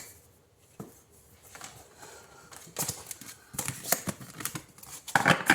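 Tarot cards spill and scatter in a flurry of papery slaps and rustles that build from quiet handling into a denser, louder clatter, close up with no voices.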